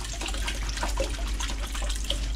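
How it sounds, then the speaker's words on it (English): Water pouring and trickling out of a mesh ice water hash extraction bag, a continuous splashing drain with a low steady hum underneath. "It really clears out the water quick."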